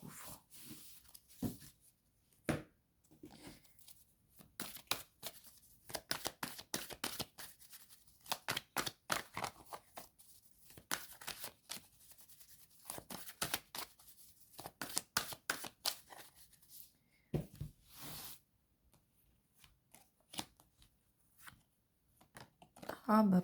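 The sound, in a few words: cards being handled and shuffled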